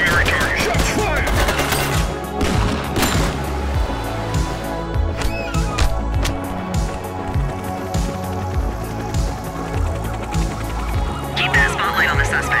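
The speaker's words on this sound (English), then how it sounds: "Shot fired!" Rapid bursts of gunfire and a machine gun rattle in a city police shootout from the video game The Precinct, loud and dense, mixed with music and spoken dialogue throughout.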